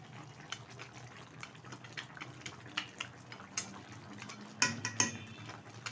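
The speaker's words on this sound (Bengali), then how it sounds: "কুচিয়ে রাখা ধনে পাতা এবার একটু নাড়িয়ে দিচ্ছি" Pabda fish curry with potatoes, flat beans, fried lentil dumplings and chopped coriander leaves is stirred in a pan, a soft simmer under light scraping and a few sharper metallic knocks near the end, quiet and close.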